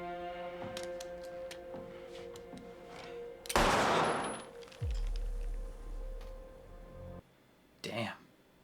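A short burst of gunfire erupts from a scene in the TV series Dark, one loud crack followed by a hard booming impact, with quieter clicks and a brief sharp noise near the end.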